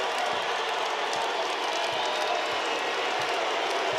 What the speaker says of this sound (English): You hear the boos.